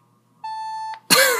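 A sensor beep effect from a gun movie effects app: a steady electronic tone lasting about half a second, followed by a loud noisy burst, alone without talk.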